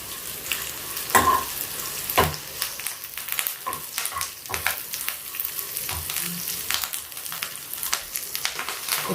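Onion and curry leaves crackle in hot tempering oil for a white pumpkin curd curry, a busy close sizzle with frequent spoon scrapes and sharp pops throughout, no voices.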